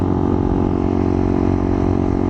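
A Honda CBR150R motorcycle engine drones steadily while riding, a loud, close, continuous buzzing hum with a constant pitch and no speech over it.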